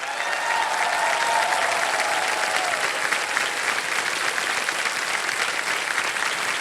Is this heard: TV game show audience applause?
yes